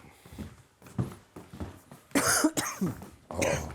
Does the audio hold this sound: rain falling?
no